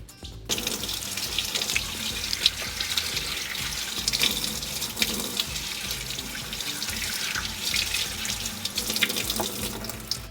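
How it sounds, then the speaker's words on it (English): Kitchen tap running steadily into a sink while asparagus is washed under it, a continuous hissing splash with small irregular bumps and clatters as the spears are handled. "So let's go wash our asparagus."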